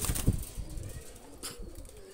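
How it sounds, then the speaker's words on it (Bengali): Pigeons take off with a burst of loud wing flaps right up close at the start, then a second fainter flutter follows among quiet background noise. "দুইটা কবুতর ছেড়ে দেখাচ্ছি আমি"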